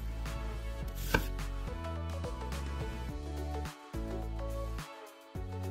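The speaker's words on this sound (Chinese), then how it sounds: "洋葱切丝" A knife slices onion into strips on a board for a beef and vegetable oven bake, with quick, steady cuts running under continuous background music.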